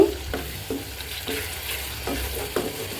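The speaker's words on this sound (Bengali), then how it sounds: "এই যে শুটকি ধোয়া শেষ এখন শক্তি দিয়ে ভালো করে কষিয়ে নিব" Dried loitta fish stir-fries with turmeric and chili, a soft sizzle running throughout while spatula strokes scrape the pan about every half second, close and unaccompanied by speech.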